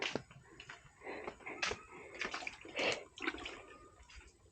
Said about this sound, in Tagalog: Tsaka si Desiree naliligo